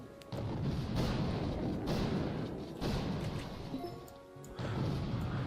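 Repeated heavy cannon blasts in a video game battle, loud crashing booms about every second layered over constant rumbling combat noise, with no voices.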